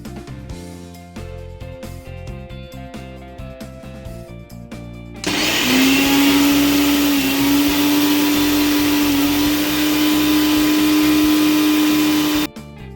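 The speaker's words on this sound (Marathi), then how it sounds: "साबुदाणा आणि शेंगदाणे हे मिक्सरमधून काढून घेणार आहे." Mixer grinder grinding sago and peanuts, starting abruptly about halfway in with a loud, steady high-pitched motor whine that runs for several seconds and then cuts off sharply.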